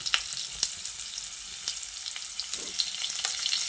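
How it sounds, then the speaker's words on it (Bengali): Potatoes and cut radish fry in a pan for a spinach dish, giving a constant bright sizzle, close and fairly loud, with scattered light clicks and pops from stirring. "আলু কিছুক্ষণ ভেজে নিয়ে এবার এর মধ্যে কেটে রাখা মূলোগুলো দিয়ে দিচ্ছি।"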